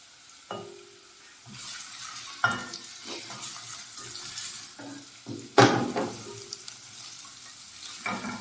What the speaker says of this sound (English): I'm adding all my onions.